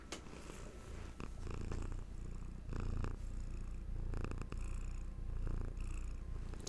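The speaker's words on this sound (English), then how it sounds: "right on time with her healing purrs" A cat purrs steadily and close by, a low rumbling drone with rhythmic breaths, alone with no talking.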